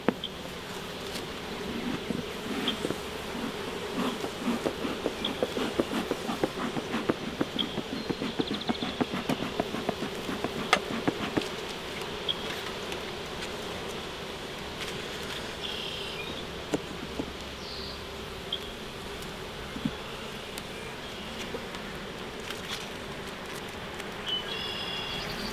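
Honey bees swarm around an open beehive in a continuous droning buzz, close and fairly loud, with scattered clicks and knocks from handling the hive frames and no talking.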